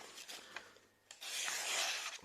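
A blade slices through a sheet of paper in quick rasping strokes, close and soft, with a brief pause before a longer, louder cut.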